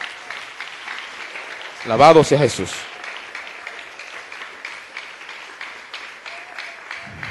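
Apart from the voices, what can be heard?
audience applause in church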